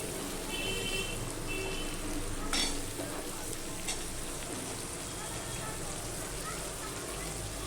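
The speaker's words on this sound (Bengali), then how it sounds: "পেঁয়াজ আর আলুটা আমি না একসাথে ভেজে নেবো" Thinly sliced potatoes and onions frying together in a pan give a steady, quiet sizzle with occasional stirring scrapes.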